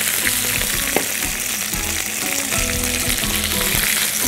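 Vegetables for an Egyptian moussaka are stirred together in a hot frying pan, making a loud, continuous sizzle with rhythmic scraping and shuffling strokes close up.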